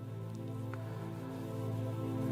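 Steady rain falls as a continuous, even hiss over a low rumble, sounding close and constant throughout, with no voices.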